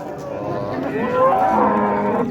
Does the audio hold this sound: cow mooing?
yes